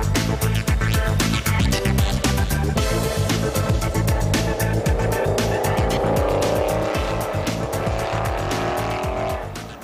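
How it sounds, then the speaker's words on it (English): A Mercedes SL63 AMG Formula One safety car with a 6-litre V8 roars loudly and continuously at speed on the Silverstone asphalt, a dense, steady engine note with a rising tone and a hint of tire noise throughout. "A 6-liter V8 motor powering a new sports transmission guarantees the performance on the asphalt is great"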